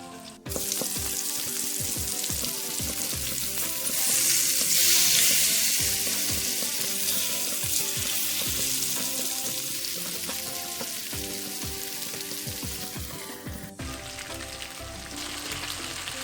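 Spicy masala fish frying in oil on a tawa, a steady close sizzle and crackle that runs throughout with no speech.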